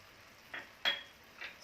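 Spices are stirred into jaggery in a pan, producing a few brief scrapes and clinks of a spoon against the metal over a quiet background, close and faint.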